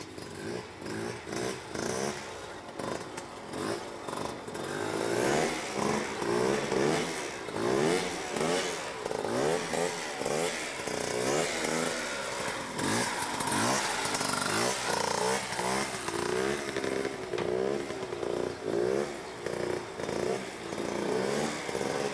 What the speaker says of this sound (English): This was Doug's last motorcycle he ever did any shows on, and I'm just gonna hang a couple wheelies for everybody